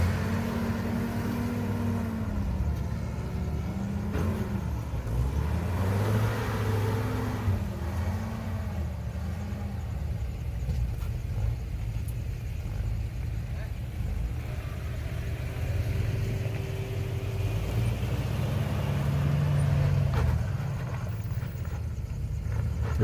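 A Jeep Cherokee XJ engine labors steadily while crawling over a steep rock, a continuous mid-pitched drone with gentle rises in effort and a brief harder rev near the end.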